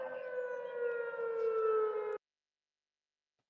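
An air raid siren wails in a sustained, slightly rising tone for about two seconds, then cuts off abruptly, leaving silence.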